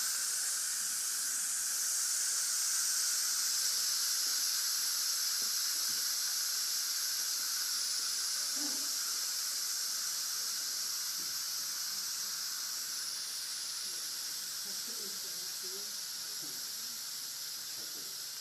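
Fagor 670040230 stainless steel 3-in-1 6-quart multi cooker releasing pressure: a steady, loud, high-pitched steam hiss runs unbroken throughout, with faint clicks and a soft voice underneath.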